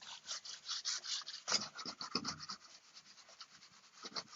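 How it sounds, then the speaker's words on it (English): Brisk scrubbing of hard water spots on shower chrome with a bathroom scrub mitt: close, rapid rubbing strokes in uneven bursts, with a few firmer scrapes in the middle. "just kind of scrubbing it a little bit"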